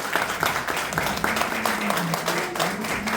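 Church congregation at a sermon breaking into loud, sustained applause, a dense patter of many hands clapping, with a voice faintly over it.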